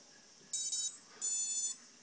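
Quadcopter ESCs sound their calibration confirmation signal: two loud, high-pitched electronic beeps, the first brief and slightly broken, the second longer and steady, close and clear with no talk.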